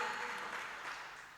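A church congregation at a worship service gives a short, faint, distant burst of applause as a steady wash of clapping that fades out, with no voices.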